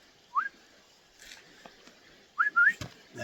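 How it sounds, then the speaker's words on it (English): Person whistling to call a dog: two short rising whistles, one near the start and a quicker double whistle later, moderately close with quiet outdoor background between. "I need to work on my whistle"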